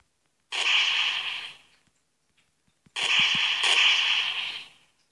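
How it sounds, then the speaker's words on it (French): Two separate bursts from the DesnoGun mod in Minecraft, each a loud, noisy blast lasting about a second and a half and tailing off, with silence between them. "Ah oui, ça explose."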